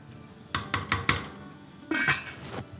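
A lid is set onto a cooking pot of lasagna sauce, a quick run of metallic clanks and rattles followed by a second scraping clatter, close and fairly sharp.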